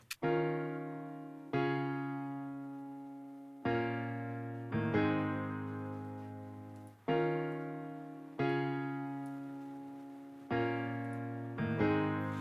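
A grand piano plays slow chords, each struck clearly and left to ring and decay before the next, in a calm, steady rhythm.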